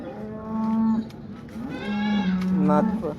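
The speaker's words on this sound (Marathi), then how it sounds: "मोठ्या मापाची गाय आहे बघा." A large cow moos loudly twice at a cattle market in Modnimb, long low calls close by, with faint voices in the background.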